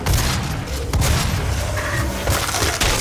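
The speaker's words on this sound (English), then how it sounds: "And they're shooting at me." Enemy gunfire in DOOM on Xbox One at Nightmare difficulty, a loud cluttered barrage of booming shots and thuds arriving in quick overlapping bursts.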